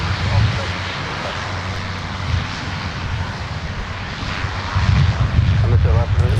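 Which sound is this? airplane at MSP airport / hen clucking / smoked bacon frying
airplane at MSP airport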